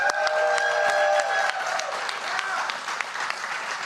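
Audience applause fills a campaign speech rally, a dense steady wash of many hands clapping loudly near the stage, easing slightly after the first second and a half.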